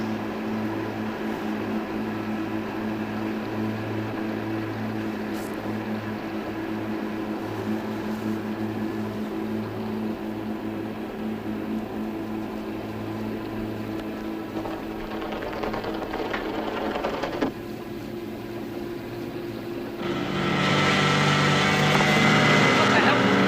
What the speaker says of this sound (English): Cut the engine quick.